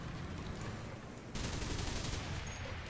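A Gepard anti-aircraft gun fires in War Thunder, a loud, rapid fusillade of cannon shots that steps up into a heavier, denser burst partway through and keeps hammering to the end.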